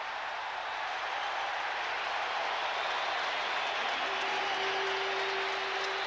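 Steady roar of a stadium crowd at a 1987 NFL football game between the LA Raiders and Minnesota Vikings in Minnesota, cheering continuously and loudly to rattle the offense, a broad sustained wash of noise with no pauses.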